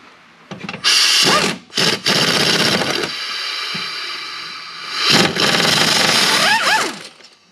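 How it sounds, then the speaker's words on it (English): A power tool zips out the bolts holding the power steering gearbox on a 1998 Jeep Grand Cherokee: loud, close whirring bursts, short stops and starts at first, then longer sustained runs with a rising whine near the end. "Very careful zipping out both your bolts because you don't want this thing to fall."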